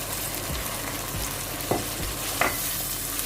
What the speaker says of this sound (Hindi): और इसको अच्छे से भून लेंगे।